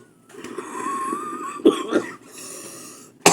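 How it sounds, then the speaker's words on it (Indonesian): A man coughs after holding back a laugh: a strained, wheezy throat sound breaks into a few harsh coughs, close to the mic, and a sharp burst ends it. "mau ketawa ditahan tapi ketawa akhirnya batuk."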